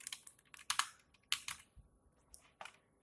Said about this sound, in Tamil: வினெக்ஸ் ஹெச்டி அப்படின்னு சொல்லி டைப் பண்ணுங்க.